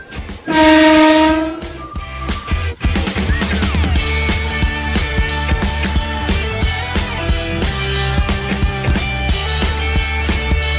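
Locomotive horn sounded by the train driver, one loud sustained blast near the start, followed by the rumble and rhythmic clatter of the moving train on the rails.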